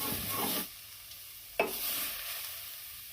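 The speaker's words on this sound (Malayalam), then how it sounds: "ഇനി നമുക്കതൊന്ന് ഇളക്കി വാങ്ങാം" Leaf thoran is stirred in a pan. A brief burst of sizzling scraping gives way to a faint, low hiss, then a single sharp scrape is followed by a softer fading sizzle.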